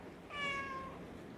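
A house cat gives a single short, fairly faint meow indoors against a quiet background.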